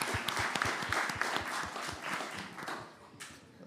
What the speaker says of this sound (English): can we give Naomi and Lisa one more round of applause?